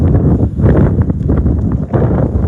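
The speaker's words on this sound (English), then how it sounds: "Today is a wicked windy day." Strong wind buffets the microphone in continuous heavy gusts at outdoor handball courts in a park, a loud low rumble with rustling bursts, no voices.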